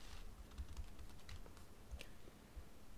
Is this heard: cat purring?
no